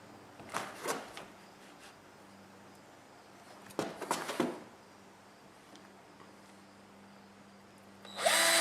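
A power driver sinks a 12-inch screw in short whirring bursts, two quick pulses early and a longer buzzing run midway, close and fairly quiet against a faint steady hum.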